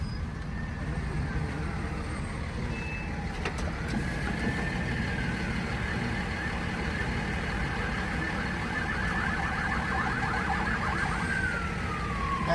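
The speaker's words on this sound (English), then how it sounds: "That's a fire truck heading somewhere." A fire truck siren wails along Eglinton in Toronto, heard from inside a car over steady road and engine rumble, its rising and falling tones continuous and moderately distant throughout.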